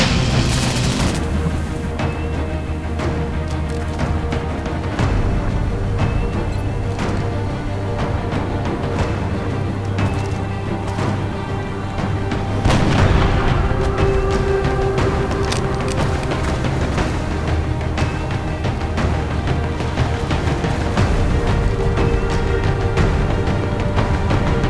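Battle in XCOM: Enemy Unknown with a heavy soldier firing a light machine gun, loud repeated booming shots and bursts over a low droning background, with a stronger blast near the middle.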